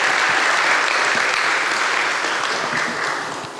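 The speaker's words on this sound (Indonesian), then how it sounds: "Tepuk tangan dong untuk kita semuanya." Audience applause at an awards announcement and speech ceremony, a dense, loud burst of many hands clapping that holds steady and then begins to fade.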